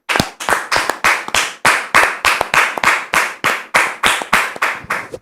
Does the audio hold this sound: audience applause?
yes